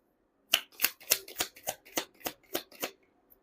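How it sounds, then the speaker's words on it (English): Tarot cards shuffled in a quick run of about ten crisp riffling snaps, evenly spaced and close, with no talking over them. "You saw me shuffle."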